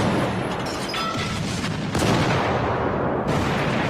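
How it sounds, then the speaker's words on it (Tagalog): Deep booming blasts sound with a rough rumbling wash around them, like distant cannon fire in a couple of heavy bursts. "Tunog ng mga kanyon."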